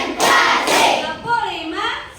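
Children in a classroom clap their hands in a counting routine, a couple of loud clustered bursts of claps followed by young voices chanting.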